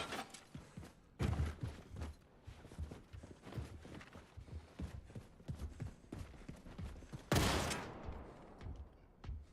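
Shotgun blasts in Wolfenstein 2, a few loud separate booms, the strongest near the end with a long decaying tail, between busy game footsteps and movement sounds.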